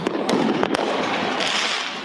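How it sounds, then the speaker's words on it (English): Fourth of July fireworks bursting over a Philadelphia neighborhood, with sharp cracks riding on a continuous loud crackle and rumble. "Fireworks lighting up the sky in the city's Fairfield"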